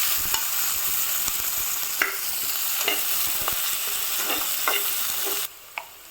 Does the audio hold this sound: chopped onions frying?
yes